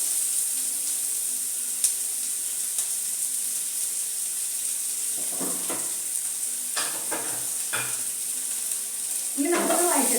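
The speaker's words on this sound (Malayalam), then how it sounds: "ഇനി ഉള്ളി ഇടുന്നു." Onions are tipped into a hot pan of oil with mustard seeds and curry leaves, set over a steady background hiss of frying, with several scraping stir sounds and crackling bursts in the second half.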